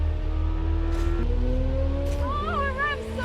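A 2023 Chevrolet Corvette C8 Z06 engine revs hard through rising pitch sweeps, loud and close, with a steady low drone underneath and brief bursts of noise between pulls.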